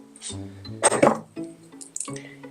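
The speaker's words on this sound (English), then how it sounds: "Cooler water in there," Cool water pours and splashes into a bowl of homemade plant-based dog food in short bursts, close and fairly loud, with gurgling drips between the pours.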